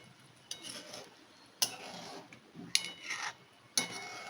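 Rasgullas simmering in sugar syrup in a pot on low flame are stirred from the side, giving a few sharp metallic clinks of spoon against pot over a soft bubbling, wet swishing background, close and fairly quiet, with no talking.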